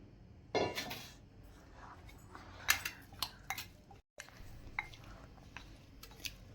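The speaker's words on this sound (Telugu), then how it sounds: "ఇందులోని ఆయిల్ వేసుకొని బాగా కలుపుకోవాలి" Carrot pickle stirred with oil in a bowl, giving a scattered series of clinks and scrapes of a spoon against the bowl, close and moderately loud, with short gaps between strokes and no talk.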